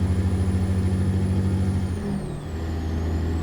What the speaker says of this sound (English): Love the sound of this engine. Listen to this Jake brake on this bad boy.